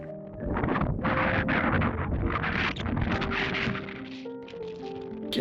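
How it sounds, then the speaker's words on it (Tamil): Steady roaring wind on a mountain buffets the microphone with a broad, continuous rush that swells and dips slightly, loud and close throughout. "இருங்க நான் உங்களுக்கு அந்த காற்றோட சத்தத்தை காட்டுறேன்"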